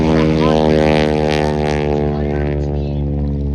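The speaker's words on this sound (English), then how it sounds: "When Chipmunk lands, it's going to come right in here." A Chipmunk propeller airplane comes in to land at an air show, its engine a loud, steady droning buzz close by that eases slightly toward the end.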